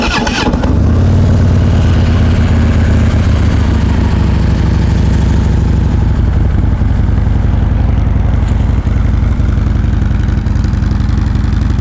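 A Harley Davidson Road Glide Special FLTRXS motorcycle starts close by with a quick crank, catches into a loud, deep, throbbing idle that runs steadily to the end, no voices.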